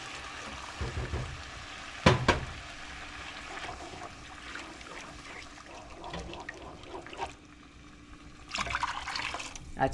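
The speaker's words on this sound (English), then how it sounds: "I'm going to add 5 cups of water." Water poured from a container into a cooking pot on a stove, a steady liquid splash and trickle with a brief sharp clatter near the start, close by with no talk.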